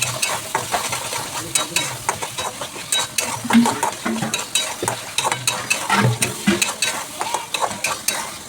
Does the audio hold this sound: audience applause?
no